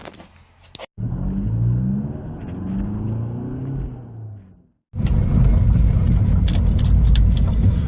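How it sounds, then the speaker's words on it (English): An Audi A3 TDI with a newly fitted clutch and single-mass flywheel conversion drives off, its diesel engine droning and rising through revs, followed by loud steady road and cabin rumble after a brief cut. "Today we are going for the first spin in the Audi with a new clutch in it."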